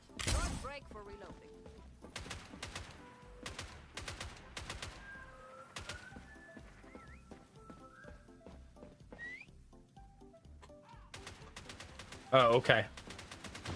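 Rapid bursts of video game gunfire crack in quick clusters among whistles and birdlike chirps, with a louder blast near the end, while a voice briefly speaks.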